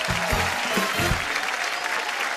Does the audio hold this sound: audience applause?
yes